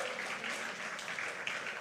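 A church congregation claps together in a steady, dense patter throughout, a continuous wash of many hands at a moderate distance.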